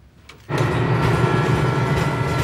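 A GE diesel locomotive rumbles past close by, a sudden loud onset after near-silence, then a steady, dense roar with low engine throb and rail noise that holds without break.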